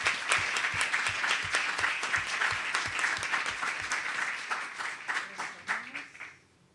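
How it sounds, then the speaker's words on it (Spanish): An audience applauds for performers at a children's storytelling event, a brisk wash of clapping joined by a few rhythmic unison claps early on, then thinning into scattered claps and fading as a voice begins. "Les pido un fuerte aplauso para ellas y las escuchamos."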